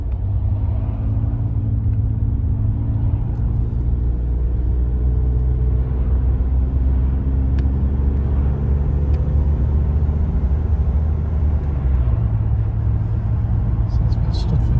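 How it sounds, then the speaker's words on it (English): A 1986 BMW 7 Series 728i E23 with automatic gearbox drives along a road, a loud, steady low engine and road rumble from inside the cabin, with a voice talking over it. "Take you up the road in this lovely old 7 Series"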